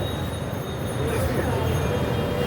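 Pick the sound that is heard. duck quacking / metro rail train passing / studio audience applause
metro rail train passing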